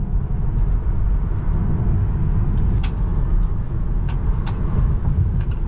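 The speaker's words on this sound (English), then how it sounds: "I kind of don't like that feeling of being able to hear the tires and knowing that I'm already reaching kind of close to the limit." A 2022 Tesla Model 3 Performance cornering hard gives a loud, steady, close road and tire rumble throughout, with a few faint, brief higher-pitched squeaks on top.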